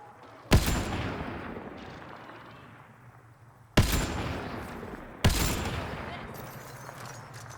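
Rifle gunfire in the sci-fi shooter Mass Effect Andromeda: three sharp, loud shots spaced a few seconds apart, each followed by a long rumbling decay over a steady background hum.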